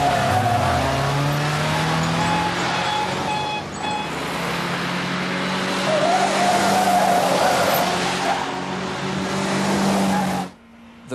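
A getaway car speeds through a chase with its engine roaring and tires squealing in long skids, loud and continuous for several seconds before it cuts off abruptly. Voices can be heard faintly beneath it.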